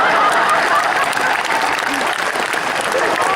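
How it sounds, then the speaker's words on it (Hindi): A crowd applauds at a Hindi poetry event, with loud, dense, continuous clapping from a large audience that keeps up steadily throughout. "और ताली तो आप इस बात पर बजाएंगे"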